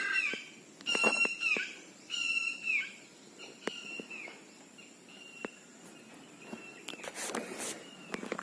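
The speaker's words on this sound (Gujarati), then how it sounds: "બાકી અહીંયા પક્ષીઓનો અવાજ જો તમે" Birds call across a farm field near an egret, with repeated clear chirps and whistles in short bursts, some loud and close, over a quiet background with occasional clicks and rustles.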